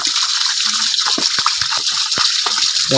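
Chinese ducks drink and bathe in water, giving a continuous rushing, gushing splash with quick dabbling clicks and slurps scattered through it, close and steady, with no talking.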